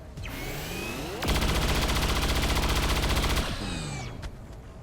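A sustained rapid burst of automatic gunfire from the video game XCOM 2 hammers for about two seconds, loud and close, framed by quieter whooshing game ambience before and after.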